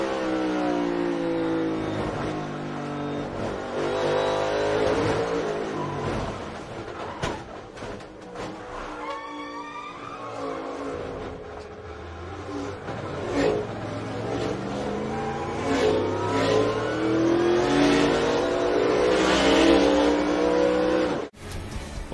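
NASCAR race cars roar around the road course at Watkins Glen, engines revving and downshifting as several cars pass in close succession, loud and continuous with a tire squeal near the end.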